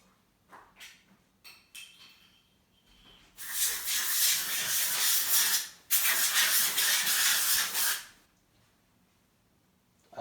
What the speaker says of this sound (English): I have used some compressed air can, and yeah, this is pretty clean